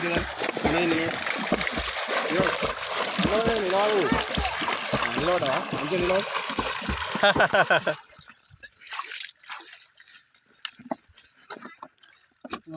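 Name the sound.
person swimming and splashing in a village lake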